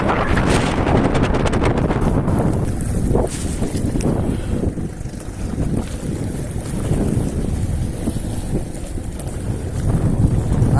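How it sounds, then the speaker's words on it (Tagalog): Strong wind roars and buffets the microphone nonstop, loud and close, with a low rumble like water or waves beneath it. "Lakas ng hangin dito."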